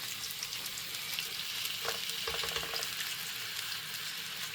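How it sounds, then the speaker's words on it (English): Meat kebabs sizzle steadily in a hot frying pan, a continuous crackling hiss with a few brief scrapes and clinks partway through. "We'll let these have a sizzle, a few minutes, while I roll them round on each side."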